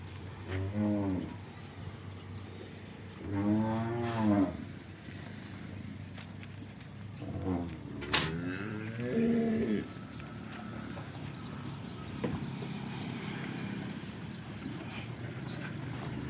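Local Banaskantha cows low on a farm with long, deep moos, three main calls over about ten seconds, mid-distance against a steady hum.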